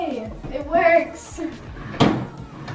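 A newly built wooden dresser drawer slides open and shut in a bedroom, two short bumps and a louder thud near the end, with a voice talking around them.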